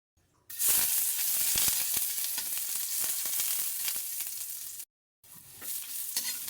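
Pork dinuguan frying in a pan with steady broadband sizzle and stirring scrapes, loud and close, cutting out briefly near the end before resuming.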